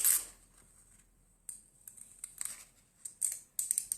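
Scissors snip out a nail art decal, with a few quiet, close cutting clicks and short scraping snips scattered over a few seconds in near silence.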